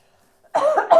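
A single close, loud cough in two quick bursts after a moment of silence.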